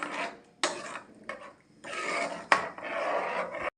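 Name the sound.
stirring date payasam in a pot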